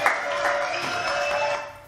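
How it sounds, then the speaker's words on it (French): A studio audience gives a short burst of applause for Malika on a French television news show, steady clapping lasting under two seconds. "Et Malika, applaudissements."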